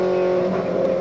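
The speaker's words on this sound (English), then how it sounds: "Heading up Pt1 Hill, you can see Brock, and just ahead of Brock, of course, is Dick Johnson" Touring race cars from the 1986 Australian Touring Car Championship, including a Nissan Skyline, race around Amaroo Park Raceway, their engines a loud steady drone with a strong sustained tone throughout.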